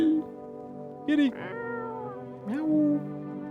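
A cat meows in the video game No, I'm Not Human: two short, clear meows about a second and a half apart, close and fairly loud over a quiet background hum.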